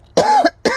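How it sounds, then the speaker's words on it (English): A woman coughs twice in quick succession, each burst loud and close, with a short pause between them and no talk over them. "I'm sorry, I'm coughing."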